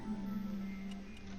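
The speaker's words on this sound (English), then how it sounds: "That is the sound of a new duplicate." New duplicant arrival cue in the video game Oxygen Not Included: a brief, quiet, low sustained tone with a few light ticking clicks over it.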